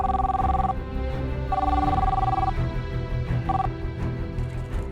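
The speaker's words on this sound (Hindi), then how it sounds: "उठाइए, फोन उठाइए" A telephone rings loudly in repeated electronic trills, two long bursts and a short third, over a busy background of music and noise in a drama scene.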